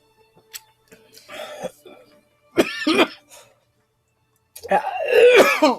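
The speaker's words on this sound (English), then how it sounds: "kind of makes me cough when it gets to the back of my throat" A person coughs and clears their throat after swallowing spicy Samyang stew-type fire chicken noodle soup, with three short, close bursts separated by silence.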